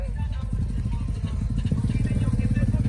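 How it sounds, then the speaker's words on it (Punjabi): A motorcycle engine putters steadily nearby with a low rhythmic throb, and voices talk over it. "ਮੋਟਰਸਾਈਕਲ ਹੈ"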